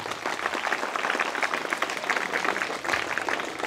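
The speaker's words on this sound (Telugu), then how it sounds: "మల్లన్నకు మనం అంత మనస్ఫూర్తిగా మళ్ళొకసారి ఘనంగా చప్పట్లతో చెప్పాలి." An audience at a school event, where shoes are given to government school students in Mallapur, breaks into sustained, dense applause, many hands clapping together in an even wash for several seconds.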